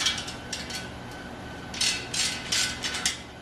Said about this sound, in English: Go ahead and loosen the axle nuts.